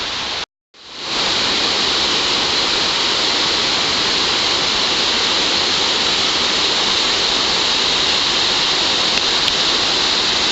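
A waterfall roars with a steady, dense rush of falling water, loud and continuous after a brief cut at the start.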